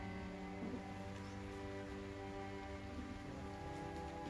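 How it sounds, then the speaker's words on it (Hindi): Steady rain falls in Ranchi, a continuous even hiss of drops on surfaces with no pauses, moderately quiet and alone throughout. "रांची में बारिश हो रही है।"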